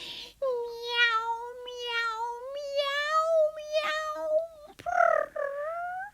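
A human voice imitates a cat, singing a string of long, tuneful meows one after another, drawn-out and wavering, clear and close with short breaks between them.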